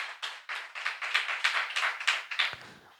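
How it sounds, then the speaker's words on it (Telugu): A church congregation claps loudly during a sermon, giving about a dozen sharp, evenly spaced claps in a quick steady rhythm that fade out at the end. The clapping is close and heard alone, with no voices. "ఇప్పుడు గట్టిగా చప్పట్లు కొట్టు"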